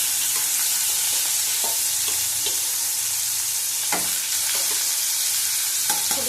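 Onions go into hot oil over fried five-spice tempering for a potol curry, giving a steady close sizzle with occasional stirring scrapes and clinks, no voices.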